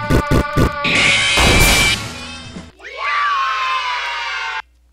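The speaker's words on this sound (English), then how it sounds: "I was supposed to press all the heads and make them scream" Cartoonish heads in a horror-parody video game shriek one after another when pressed, loud overlapping screams and crashes giving way to a sustained high wail that cuts off abruptly.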